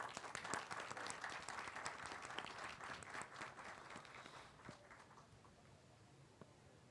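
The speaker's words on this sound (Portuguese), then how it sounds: "Eu só aplaudo. Parabéns." An audience applauds after a poetry reading, a dense burst of clapping that starts full and thins gradually over about seven seconds, with no talk over it.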